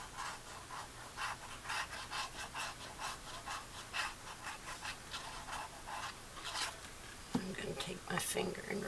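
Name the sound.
finger rubbing paper onto chipboard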